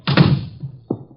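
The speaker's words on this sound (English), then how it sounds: "Shut the door." A door on an old radio drama is pushed shut, a close wooden thump with a short rattle, followed by a softer second knock of the latch a moment later.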